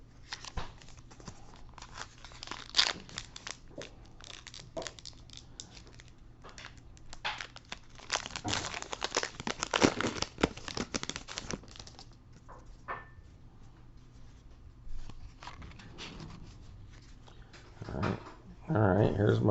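Foil trading card packs from a 2017 Allen & Ginter blaster box being torn open and crinkled by hand, with close, soft ripping and crackling that comes in bursts and grows louder near the end.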